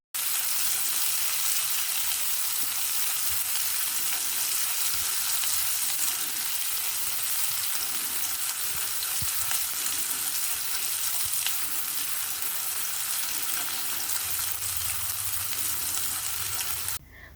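Mie goreng jawa with dried shrimp fries in a hot pan, giving a loud, steady sizzle and hiss. Spatula scrapes from continuous stirring run through it, and no one talks.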